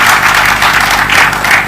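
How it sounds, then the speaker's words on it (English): An audience applauds to welcome author David Grossman on stage at the Jaipur Literature Festival, a dense, loud wash of many hands clapping together with no voices. "So a warm round of applause."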